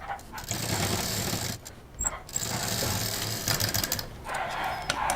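Sewing machine stitching a shopping bag: close, rapid mechanical chatter running in bursts, with a short break near two seconds and a quieter pause toward the end.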